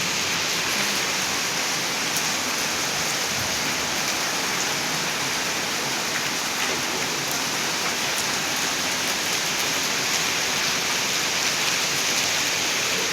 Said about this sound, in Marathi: इकडं लईच पाऊस पडायला लागला